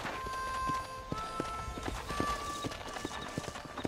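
Horse hooves clip-clop in steady rhythm in the Red Dead Redemption video game on Xbox One, with a sustained tonal music or ambience bed beneath the close, repeated hoof strikes.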